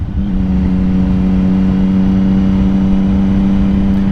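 A 2006 Triumph Daytona 675 with a triple engine runs at steady speed, giving a loud, smooth, even drone with a strong constant pitch and no talk over it.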